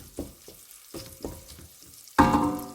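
Pork fat pieces render and sizzle in a pan for a Ukrainian home-cooked batch, with stirring sounds throughout. A few soft scrapes and clatters come first, then a loud sustained sizzle bursts up near the end.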